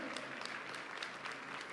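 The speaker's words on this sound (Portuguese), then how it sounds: "dá uma salva de palmas para a Gospa, que está nos presenteando." An audience applauds during a church service, a brief, steady patter of many hands clapping at moderate distance, filling the short moment without talk.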